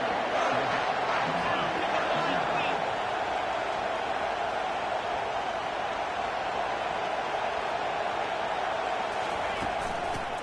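A college football stadium crowd at a Missouri game roars in a dense, continuous wall of cheering that holds at full loudness throughout, with a commentator's voice woven underneath.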